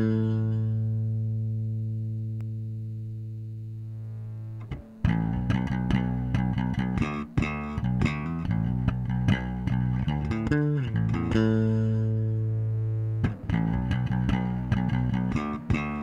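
A sustained low bass guitar note rings out, then a run of thick, gritty bass notes played through a fuzz pedal with a buzzing, saturated tone, loud and close.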